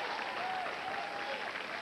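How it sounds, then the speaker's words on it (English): A television talk-show studio audience claps in a steady, dense burst of applause that fills the whole moment, with no talk over it. "Oh, don't clap."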